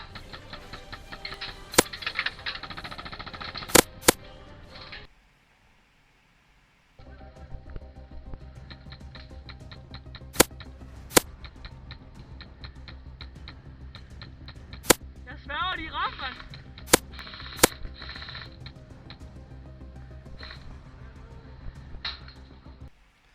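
A Kaslab MTW HPA airsoft rifle firing outdoors, sharp single shots spaced irregularly over a steady background hum, with a short gap of near silence; speech is heard partway through.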